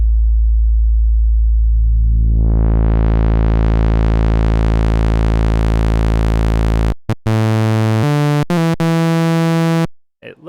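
An FM synthesizer tone starts as a pure low hum and, as feedback is applied, grows steadily buzzier and brighter into a harsh sawtooth-like drone, then stutters through a few choppy pitch changes.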